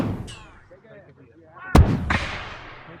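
A musket volley rings out at an American Revolution reenactment skirmish, one sharp loud blast after a shouted command, followed by crackling echoes and a second report as people talk around it.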